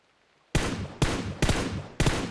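Four sharp, loud gunshots fired at an enemy hiding behind a buggy in the PUBG battle royale game, crashing out in an uneven burst over about two seconds with no talk.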